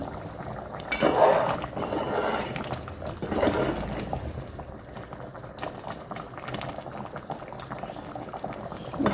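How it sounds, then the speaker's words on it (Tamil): A pot of thick potato and pea curry bubbles and boils steadily, with occasional louder blurps and rattling, close up, with no talking. "நல்லா கொதிக்குது குழம்பு"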